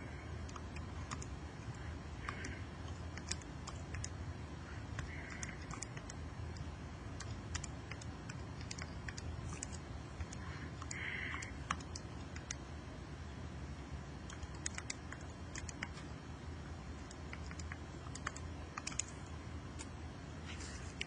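Numbers for a trigonometry triangle calculation are keyed into a calculator or keyboard as faint, sparse ticking taps. They spread across a long quiet stretch with low background hum and no talk.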